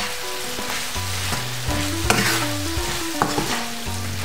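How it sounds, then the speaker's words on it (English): Apples cooking in cinnamon butter in a pan over low to medium heat, a steady sizzle with scraping stirs and a couple of sharp utensil clicks, close and without speech. "Now the apples have been cooking for a couple of minutes"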